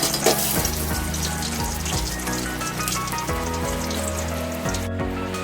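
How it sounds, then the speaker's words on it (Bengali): Potatoes fry in hot oil in a steady, dense sizzle that runs loud and close throughout, with a few low clunks and scrapes of a utensil stirring them. "তো দেখি চলো আলুগুলি ফ্রাই হয়েছে কিনা।"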